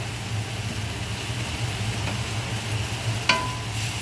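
Steady soft sizzle of ingredients being stirred and sautéed in a pan for a mung bean vegetable dish, continuous and low with a faint hum, one brief clink of a utensil near the end.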